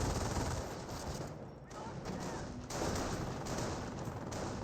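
Battlefield gunfire in the strategy game Company of Heroes: a dense, continuous crackle of rifle and machine-gun fire with scattered distant booms, fairly faint under a busy game soundscape.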